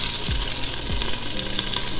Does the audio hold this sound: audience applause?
no